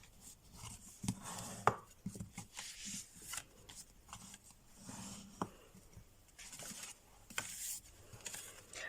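Fold lines are scored into paper card for a cascade mini-album, producing quiet close scraping, rubbing and tapping in irregular bursts with a few sharper knocks and no talking.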